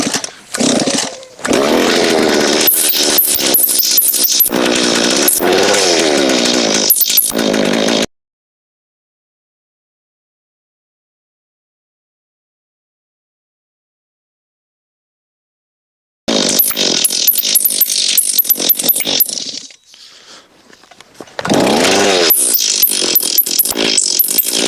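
A Stihl 026 chainsaw cutting a big piece of white oak, engine roaring loud and close under load, cutting out to silence for several seconds, then restarting, dipping briefly and revving hard again.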